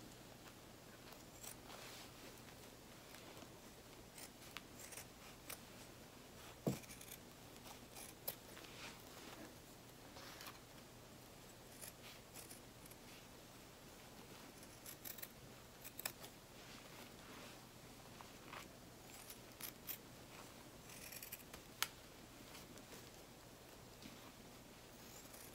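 Scissors cut fabric around curves for a sewing project, making faint, sparse snips and small clicks against a quiet room.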